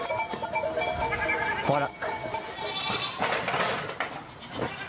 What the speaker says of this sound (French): Les chèvres viennent passer là sur le chemin Saint-Jacques